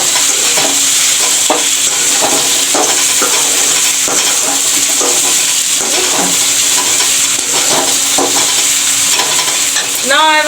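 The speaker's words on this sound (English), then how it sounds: "I will fry this a bit." Frying and stirring in a pan for Bihari-style egg curry, a loud continuous sizzle with repeated scraping and clacking spoon strokes close up throughout, no voices.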